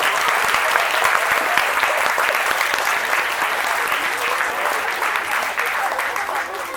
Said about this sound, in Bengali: জোরে একটা হাততালি দাও।